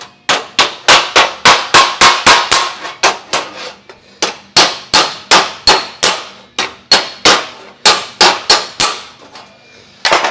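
Steady, loud hammer blows ring on the metal dash of a 1932 Ford, dozens of sharp clanging strikes in quick regular rhythm with brief pauses between runs.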